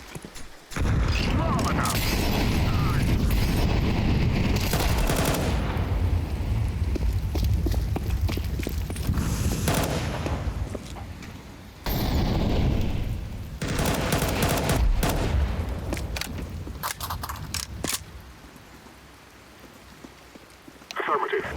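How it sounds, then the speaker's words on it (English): Counter-Strike combat brings dense bursts of rapid gunfire and crackling blasts, likely including a grenade, in several loud stretches separated by brief lulls, with voices heard alongside. "Grenade!"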